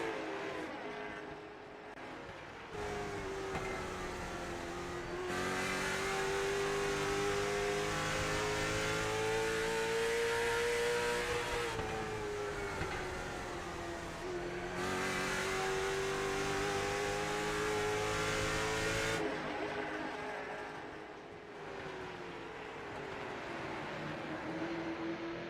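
Race cars lapping Myrtle Beach Speedway in a night series race, engines rising and falling in long rhythmic waves as the cars pass and come around again, loud and continuous with no talking.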